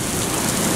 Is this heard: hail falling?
yes